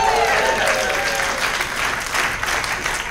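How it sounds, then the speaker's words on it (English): Audience at a stand-up comedy show bursting into loud, sustained applause with some cheering, a dense crowd clatter filling the whole stretch. "But parents in the crowd, make some noise."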